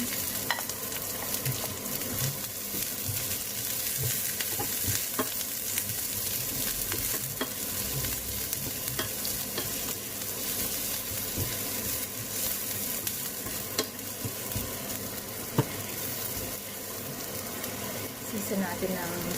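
Onion frying and being stirred in a pan while cooking squid sisig, with a continuous close sizzle broken by repeated scraping and clicking strokes throughout.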